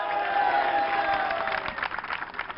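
A crowd at a political rally in West Bengal claps, a dense wash of applause that turns into more distinct scattered claps toward the end, with faint voices underneath.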